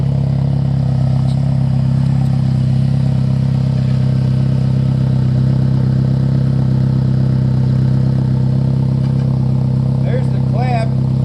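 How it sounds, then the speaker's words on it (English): Exhaust leak on a SAAB 9-3 Turbo, where a rotted-off clamp has let the pipes separate, giving a loud, steady idling drone with a rhythmic puffing chatter from underneath the car, with someone talking over it. "Some exhaust noise under here."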